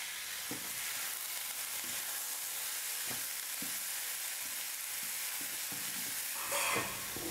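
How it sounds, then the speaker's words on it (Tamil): Salted cooked vegetables and onion sauté in a pan for an idli-style breakfast dish, with a steady close sizzle and periodic scraping stirs throughout, no talking. "உப்பு எல்லாம் சேர்த்ததுக்கு அப்புறமா நான் 2 நிமிஷத்துக்கு நல்லா குக் பண்ணிக்கிட்டேன்"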